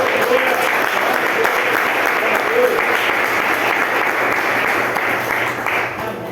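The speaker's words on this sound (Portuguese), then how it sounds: "Aplauda o Senhor." A church congregation applauds during a worship service, a dense, steady wash of clapping that holds loud and even for the whole stretch before easing slightly at the end.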